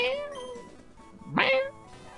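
A house cat meows close by, a drawn-out call and then a sharper rising meow, over a faint background of game music.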